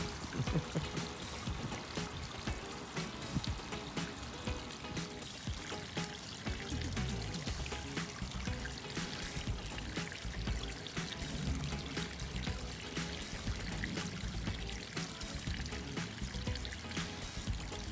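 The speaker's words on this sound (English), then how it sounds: "we redid the waterfall, much bigger and different" Water pours steadily from a rebuilt, enlarged garden pond waterfall with a bio-filter, making a continuous splashing and trickling rush heard up close throughout.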